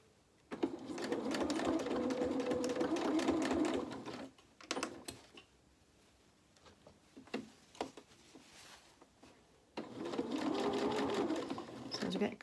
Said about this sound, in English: Just do a couple of stitches, one more.